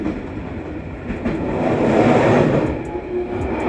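Inside an Arjonegoro economy-class local commuter train running from Surabaya toward Sidoarjo, a steady rolling rumble of wheels on rails swells slightly and holds throughout.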